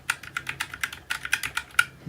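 Keys on a DIERYA RGB mechanical keyboard click in a quick, uneven run of crisp taps, close and clear with no talking.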